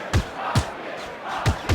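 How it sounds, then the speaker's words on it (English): A crowd roars in a PSP boxing video game, a loud steady wash of cheering punctuated by several heavy thumps from landed punches. "The crowd comes alive after that wicked combination."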